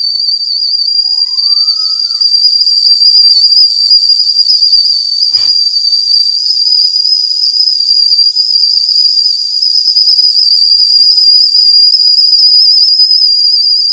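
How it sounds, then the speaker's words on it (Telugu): A milk boiler cooker's whistle blows on a high gas flame as steam escapes: one loud, shrill, unbroken hiss-whistle that holds steady for the whole stretch with nothing else over it. "ఈ విజిల్ వచ్చినప్పుడు ఎలా సౌండ్ వస్తుంది ఏంటనేది కూడా ఇప్పుడు హై ఫ్లేమ్లో పెట్టి మీకు ఒరిజినల్ సౌండ్ చూపిస్తాను"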